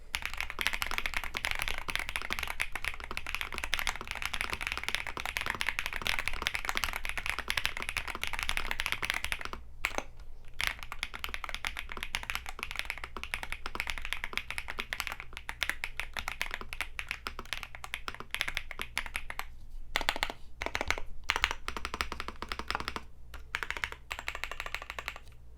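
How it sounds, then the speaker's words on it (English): Steady, fast typing on a stock Gamakay TK75 Pro aluminum mechanical keyboard, a continuous close-up stream of deep, thocky keystrokes with a few brief pauses and no talking. "I found the sound profile to be pleasant enough for those looking for a budget keyboard. It's nice and thocky,"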